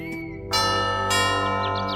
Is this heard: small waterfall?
no